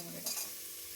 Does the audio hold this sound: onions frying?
yes